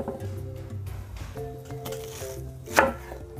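A knife chops onion roughly on a board for grilled Tuscan sausage, a short run of close, fairly soft cuts ending in one sharper, louder chop, with no voices.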